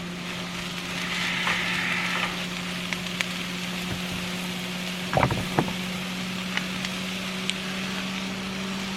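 Mushrooms sizzle softly with onion in a pan inside a camper van, a steady frying hiss over a low constant hum, broken by a few sharp utensil clicks near the middle.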